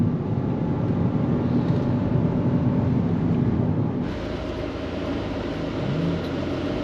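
A BMW M2 drives on the Silverstone International Circuit, its engine a continuous loud in-cabin drone that shifts tone and drops slightly partway through, with no talking.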